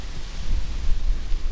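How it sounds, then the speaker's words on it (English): Gusty wind buffets the microphone outdoors beside a 1999 Toyota Celsior UCF20, a steady low rumble with fluctuating loudness and no voices. "Oh, windy today."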